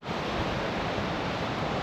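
Ocean surf rolls in at Myrtle Beach as a steady, close, full rush of breaking waves, with no voices over it.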